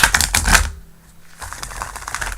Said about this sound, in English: That's good shuffling.